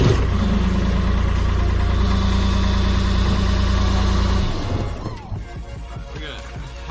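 A CAT 303.5 mini excavator's engine idles loudly with a steady, close diesel rumble for several seconds, then cuts off, leaving quieter rattles and background noise.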